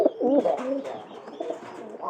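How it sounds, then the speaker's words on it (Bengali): Soft, rounded coos close by from pigeon chicks in a loft, a few throaty warbling calls with short pauses between them. "এটা হলো 1 নম্বর ঘরের কবুতরের বাচ্চা"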